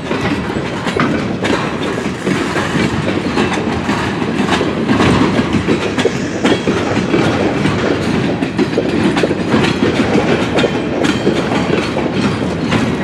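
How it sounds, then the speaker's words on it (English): CN freight train hauling coil cars rolls past in a steady, loud rumble with rhythmic clickety-clack of wheels over rail joints throughout, no voices. "they have their westward train right there."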